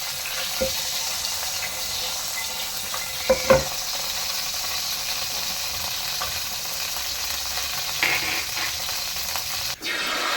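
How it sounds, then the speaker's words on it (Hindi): Vegetables fry and get stirred in a pan as rice dishes are made, a steady close sizzle with a few utensil clinks and scrapes, and a sharp clatter near the end. "वेजिटेबल फ्राई करूंगी मैं"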